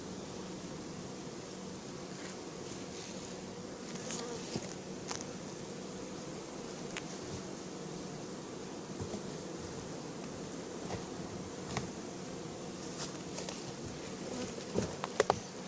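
A swarm of honeybees being hived at Noisy-sur-Ecole, a dense continuous buzzing drone with occasional louder individual bees passing close, steady throughout with no talk.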